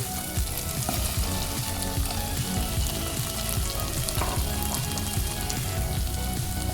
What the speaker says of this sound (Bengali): এবার আগে থেকে ভেজে রাখা আলুগুলো সব দিয়ে দেব